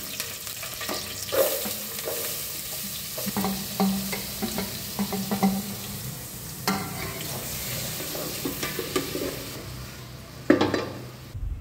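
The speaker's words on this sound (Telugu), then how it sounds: "ఉల్లిపాయలు అయితే ఫ్రై అవుతుందండి." Onions sizzle in hot oil inside an electric cooker, a continuous frying hiss broken by repeated stirring scrapes and clinks of a utensil against the pot, with a louder knock near the end.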